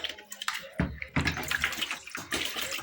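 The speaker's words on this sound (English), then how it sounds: "Remember, I've pre-measured my water, so I'm putting in my container." Five liters of water pour into a container at close range as a continuous splashing gurgle with uneven surges, part of mixing homemade bleach.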